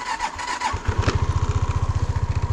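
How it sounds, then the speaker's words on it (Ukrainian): A Suzuki Address V125S scooter engine cranks over briefly, catches, and settles into a close, loud idle with a fast, regular putter that continues to the end. "Гарний, цілий японський якісний скутер."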